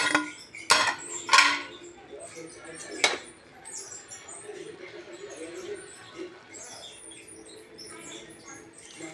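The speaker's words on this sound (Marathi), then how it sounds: "10 मिनिटं झाले, मी आता झाकण काढून दाखवते" A metal lid lifted off a pot of veg pulao after steaming, with a couple of sharp clanks and scrapes up front, then a quieter stretch of faint background noise.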